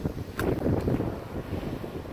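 Wind buffets a microphone outdoors while fishing from a boat, a steady close rumble with gusty swells throughout.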